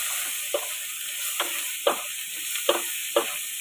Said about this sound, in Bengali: নুন দেওয়ার পরে ওটা ভালো মতো নাড়াচাড়া করছি